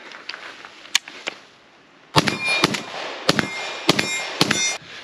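A Palmetto AK-102 rifle chambered in 5.56 is fired with a suppressor at a steel target: sharp single shots with metallic clangs, a few spaced rounds and then a quicker string.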